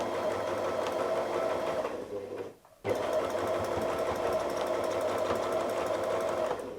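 A sewing machine quilting fabric against a ruler runs in a fast, steady mechanical rattle close by, pausing briefly mid-way before resuming at the same even pace, with no talk.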